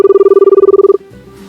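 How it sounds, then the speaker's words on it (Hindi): A telephone rings in a fast, steady trill of repeated electronic tones while a call is being placed, then stops abruptly and leaves a low hum. "चलिए उनको फोन लगाते हैं बिना देर किए हुए"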